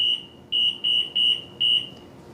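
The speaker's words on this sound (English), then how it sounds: "It's an awful beeping sound." Shrill, high-pitched electronic beeps repeat in a rapid series of four or five pulses, fairly loud and alone.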